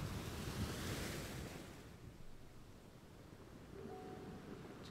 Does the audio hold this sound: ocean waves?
yes